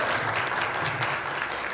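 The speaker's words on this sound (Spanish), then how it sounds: "Dale un aplauso." Enthusiastic applause from a crowd, a dense, continuous patter of clapping hands heard close and loud.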